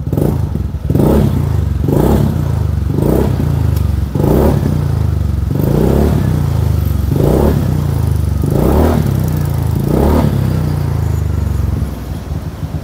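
Close by, a motorcycle fitted with a Suzuki Address exhaust cover is revved again and again, about nine short, rising throttle blips over its muffled, steady idle.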